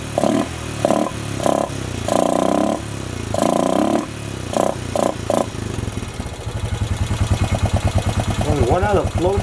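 A 2007 Honda ATV engine with a suspected faulty carburetor idles up close with a steady, rapid, throbbing putter in the second half. Talking fills the first part.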